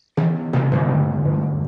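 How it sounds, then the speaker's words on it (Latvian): Thunder in the Latvian-language Peppa Pig cartoon, coming on suddenly as a loud rumbling crash followed by a second clap and a long, rolling decay. "Tas bija pērkons, Pepa."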